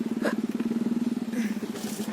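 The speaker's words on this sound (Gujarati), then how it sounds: "બાઇકનો અવાજ એવા આવી રહ્યો છે." A Bullet motorcycle engine thumps in a quick, steady rhythm close by as it passes, the low pulsing beat holding throughout.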